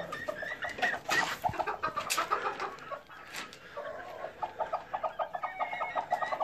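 Chickens cluck and a rooster calls repeatedly near a nesting box, close by, with bursts of bird chatter in a busy coop, no talking.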